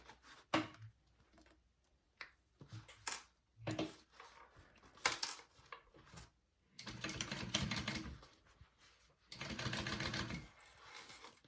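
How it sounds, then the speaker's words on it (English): A sewing machine top stitches along the inside of a zipper pocket on a shoulder bag, running in short bursts of rapid mechanical chatter separated by pauses and handling clicks. "I'm going to top stitch on the inside of this"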